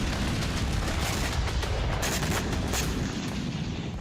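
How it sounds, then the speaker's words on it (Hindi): Rapid, dense bursts of gunfire at drones crackle continuously under a heavy, booming background, with no pauses across the stretch. "ड्रोन्स पर ताबड़तोड़ गोलीबारी की गई"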